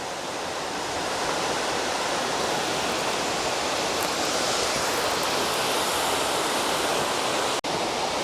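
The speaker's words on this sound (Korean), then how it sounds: "주암산에서 세 번째 폭포인 용현폭포입니다." Yonghyeon Falls, the third waterfall on the Juwangsan trail in Cheongsong, roars in a steady, dense broadband rush of falling water, close and loud throughout with no voices.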